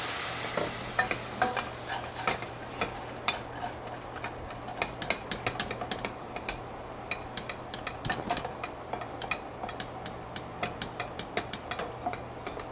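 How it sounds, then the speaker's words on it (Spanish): Spatula stirring and scraping browned chicken leg bits from a frying pan into a white wine, lemon and rosemary sauce, with steady sizzling and frequent small scrapes and ticks close by. "vamos a liberar todas estas partes del pernil de pollo pegadas a la sartén"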